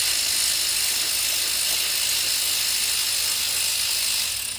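A wrench works a 15 mm axle nut on a bicycle's rear wheel, giving a steady close ratcheting, clicking texture throughout with no speech.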